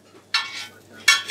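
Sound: paratha frying in Amul butter on griddle

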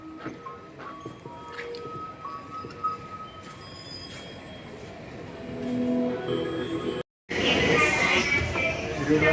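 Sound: metro train inside station

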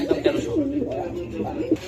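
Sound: pigeon cooing

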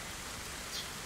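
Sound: heavy rain falling

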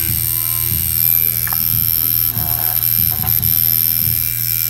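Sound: tattoo machine running

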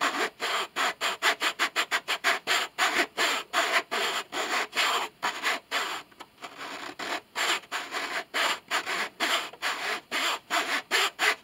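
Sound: file shaping wood on a cello during restoration

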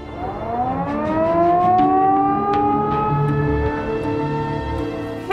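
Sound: quarry blasting warning siren

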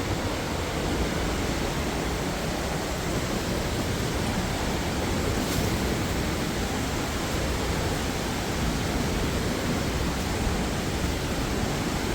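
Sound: Xe Katam waterfall rushing water

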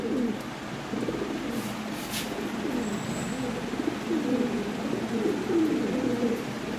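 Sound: red Lahori pigeons cooing

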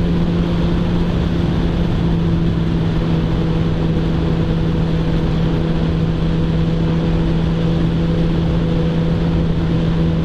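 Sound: 600cc motorcycle approaching

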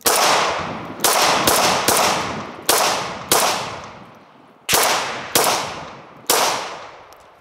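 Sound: gunshots from a Ruger SR1911 9mm pistol

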